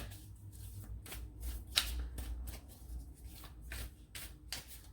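Tarot cards are shuffled by hand in quick riffling bursts with short pauses between, soft and close in a quiet room.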